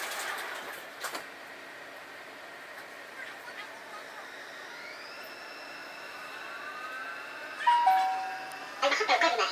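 A Dubai Metro train's doors close inside the carriage with a tonal electronic chime over a steady rolling hum, followed by a sharper warning tone near the end.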